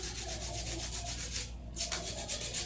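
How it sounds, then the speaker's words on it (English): Acrylic nails are hand filed with a nail file, a close, rhythmic rasping of quick strokes with a brief pause midway before the scraping resumes. "I'm gonna do a little bit of hand filing"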